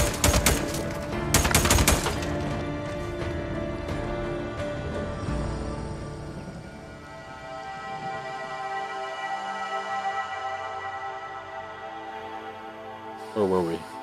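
Gunfire from the Days Gone video game: a rapid burst of shots early on, followed by ringing decay and game sounds, with another short sharp burst near the end.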